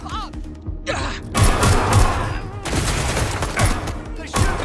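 Gunfire from enemies in Watch Dogs Legion: bursts of rapid shots and booming impacts come in several loud waves, with brief gaps between, and a voice speaks briefly at the start.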